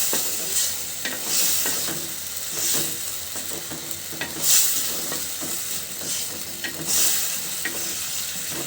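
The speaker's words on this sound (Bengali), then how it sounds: "আমি মশলার সঙ্গে কষিয়ে নিব।" Hilsa cooking preparation: ingredients sautéed with spices in a pan, a constant close sizzle with periodic louder scrapes and stirs of a spatula every second or two, no talking.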